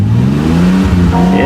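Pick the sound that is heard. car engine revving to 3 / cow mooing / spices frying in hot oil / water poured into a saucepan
car engine revving to 3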